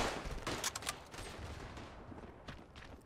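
Rapid bursts of gunfire from a World War I battle in the Tannenberg video game crackle loudly through the opening second, then continue as scattered, more distant shots and rumble.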